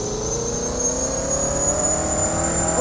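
A licensed Land Rover in the Roblox game Driving Empire accelerates, its engine giving a steady, loud, sustained drone with a rising pitch throughout, with no talking over it.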